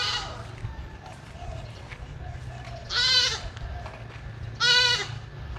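A mini goat on a farm bleats loudly twice, each a long, wavering cry close to the listener, with background noise and a voice between the calls.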